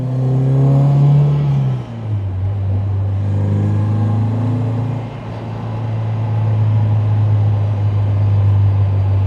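An old MGB sports car pulling out onto the Castle Combe race circuit, its engine droning loud and close, rising and settling through gear changes with a steady rumbling exhaust.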